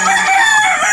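Chickens cluck and crow close by while being fed on a rainy day, a dense cluster of calls running steadily through the short moment with no talk.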